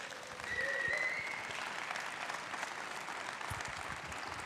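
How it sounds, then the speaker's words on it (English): An audience applauds a guest introduced at a Vienna virtual production event: steady, moderately distant clapping from a crowd that continues evenly throughout. "Please, let's have a huge round of applause for Hannes Salat."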